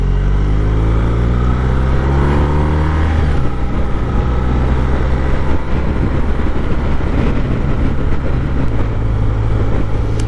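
A BMW F750GS motorcycle engine pulls away and accelerates, a steady loud drone rising in pitch early on and holding strong over continuous road and wind noise, with no talking.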